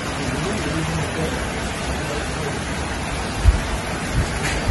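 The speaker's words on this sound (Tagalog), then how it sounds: "Nakikita niyo po talaga na malakas ang ulan." Heavy rain on a rainy morning pours down in a steady broadband hiss, with a few louder low thumps toward the end.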